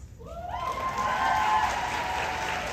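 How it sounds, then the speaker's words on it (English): Audience applause swells at a fan convention panel in Chicago, a dense steady clapping from a large crowd that builds quickly and holds, with a few cheers and whoops riding on top. "Yes, you are allowed to applaud that"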